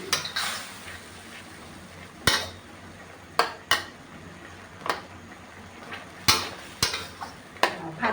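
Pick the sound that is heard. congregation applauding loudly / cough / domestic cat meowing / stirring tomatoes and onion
stirring tomatoes and onion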